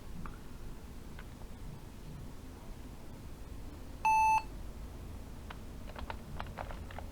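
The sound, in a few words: beeps of a 15 year old laptop booting up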